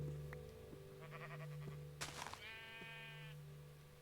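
Blocky Minecraft sheep bleats in a wobbling, harmonic call lasting about a second, preceded by a short clatter, set against a steady droning game-music bed with faint thumps.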